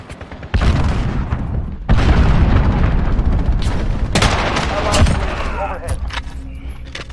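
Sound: missile explosion in Call of Duty Modern Warfare video game

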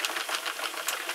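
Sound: Sentro knitting machine cranking rows of 4-weight yarn

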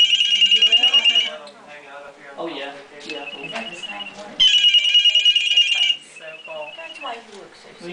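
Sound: blue jay mimicking a cell phone ringtone

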